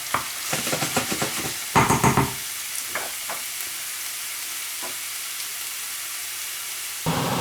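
Onion cooking in a frying pan, with a soft hiss of sizzling broken by bursts of scraping and stirring clatter near the start, then quieter frying before another stir at the end.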